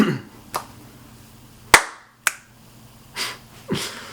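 A few sharp hand claps ring out one at a time at uneven intervals, each a crisp, close smack with a short tail, with quiet pauses between them.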